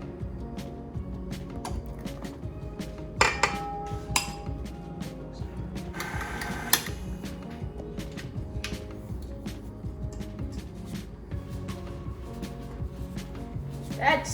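A utensil stirring flour into brownie batter in a bowl clinks and taps against the sides in irregular knocks, with a few sharper clanks and a soft scraping underneath.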